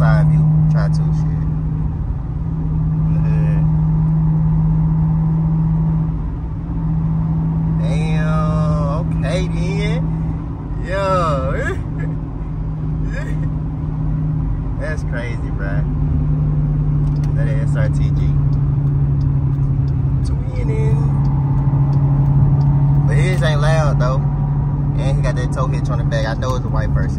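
Jeep Trackhawk driving on a highway toward an exit, a steady low engine and road drone running throughout while people talk inside the car.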